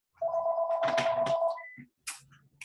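A mobile phone rings indoors during a conversation: one steady electronic ring of about a second and a half, fairly loud and close, followed by a few brief faint sounds.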